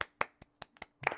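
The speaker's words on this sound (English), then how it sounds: "Clap for everybody. Clap." Six sharp hand claps in a quick, even rhythm, close by, ending with a slightly louder double clap.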